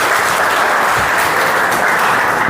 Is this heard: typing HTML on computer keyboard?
no